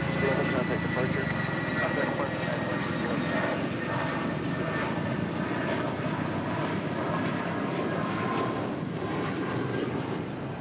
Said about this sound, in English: That flight heading to SFO on that A320. United Airlines flight 2611.